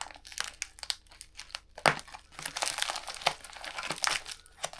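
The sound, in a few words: cutting through packaging tape while unboxing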